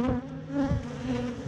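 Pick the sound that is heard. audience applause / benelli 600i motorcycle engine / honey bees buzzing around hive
honey bees buzzing around hive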